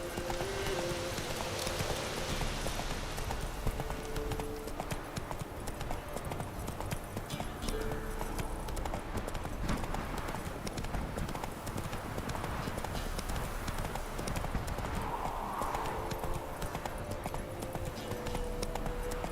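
Hooves clip-clop steadily as a horse gallops in The Witcher 3, a continuous rhythmic patter under game music and ambience, with a faint whinny and brief speech.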